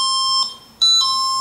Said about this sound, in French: On va activer le proxy qui a un détecteur de mouvement.